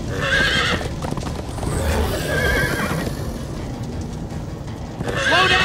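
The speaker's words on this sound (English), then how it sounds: "Slow down, horse!" Horse in the Minecraft Story Mode video game, galloping with steady clip-clop hoofbeats and neighing loudly at the start and again at the end, heard without talk.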